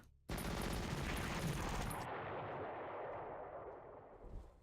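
Artillery fire in the wargame Panzer Corps: one sudden loud blast followed by a rumbling, crackling roll that fades slowly over several seconds.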